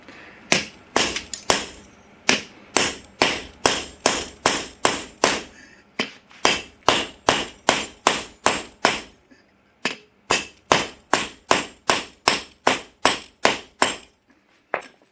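A knife of MagnaCut 65 HRC or 1095 64 HRC steel chops into a 16D nail, giving sharp, loud metallic strikes in quick steady runs of about a dozen blows each, with brief pauses between runs.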